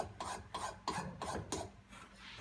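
Fine file worked by hand over carved pipestone after rasping, about six quick rasping strokes in a steady rhythm, close and fairly quiet, no talking.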